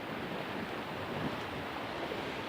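Ocean surf washes onto a beach in a continuous, even roar, with wind buffeting the microphone throughout.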